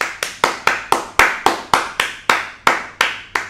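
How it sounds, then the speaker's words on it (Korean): Steady rhythmic applause from a small group or a single person, about a dozen crisp claps at an even pace, close and clear, celebrating record monthly sales at a cafe in Hong Kong. "박수!"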